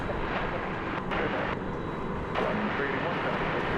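A Boeing 787-9 airliner, flight 192, at DFW Airport after dark gives off a steady, loud broadband engine roar that holds for the whole stretch while someone talks over it.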